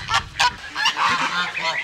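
Loud honking bird calls from farm turkeys ring out in quick bursts, close by, with no talk over them.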